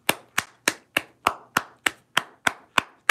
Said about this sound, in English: Let's clap it up for QueenzFlip.